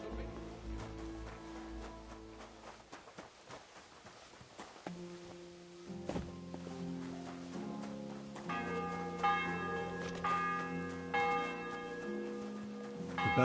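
Church bells toll with resonant ringing tones over a soft backdrop in Kingdom Come: Deliverance II, joined by brighter chiming strikes later; hoof-like clopping and faint voices appear briefly.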